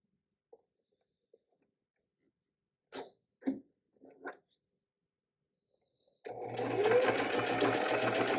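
A mechanical sewing machine stitching down the folded edge of a fabric drawstring bag starts up after a few soft handling noises, then runs in a steady loud whirring drone close by.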